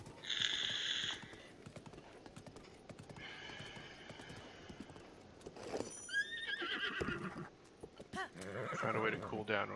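A horse in The Legend of Zelda: Breath of the Wild whinnies in high, shrill bursts with hooves clip-clopping, amid game ambience and some talking.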